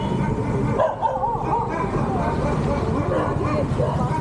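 A large dog, named as a Great Dane, barks and yips during an evening outing in Madras, with people talking and light traffic noise throughout.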